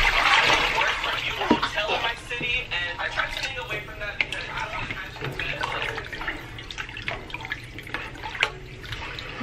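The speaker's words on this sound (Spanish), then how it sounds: "lo que le voy a agregar es la agua." Water poured into a cooking pot while preparing a Mexican seafood caldo michi, a steady close splashing and trickling stream with bright dripping spatters throughout, heard alone.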